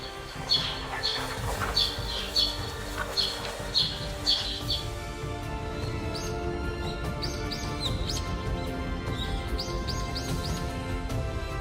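Birds in Serengeti, Tanzania give repeated short, high chirps in small bursts, moderately close, over a steady outdoor background hum.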